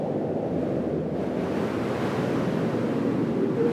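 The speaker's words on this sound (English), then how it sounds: "the winds had gone berserk" Strong wind blows steadily and loudly for the whole stretch, a dense roaring rush with surf-like surges and buffeting against the microphone, with no voices.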